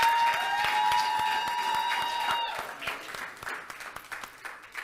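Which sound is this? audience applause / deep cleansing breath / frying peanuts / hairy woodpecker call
audience applause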